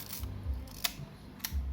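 A Yashica Electro film camera fires its shutter on the bulb setting, giving two sharp, close mechanical clicks about half a second apart over a quiet background.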